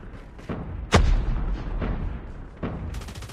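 In a Call of Duty Mobile battle royale match, a single heavy explosion booms loudly amid sharp, scattered gunshots, with no talk in the moment.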